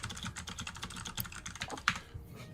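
Fast, continuous typing on a computer keyboard: a dense stream of close, crisp key clicks with an irregular rhythm and one sharper keystroke near the end, at a moderate level and with no talking.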